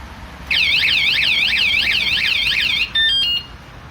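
A Wsdcam 113dB wireless vibration motion-sensor bike alarm, sitting inside its battery case, blares a loud, close warbling siren for a couple of seconds, then gives a few short, sharp beeps.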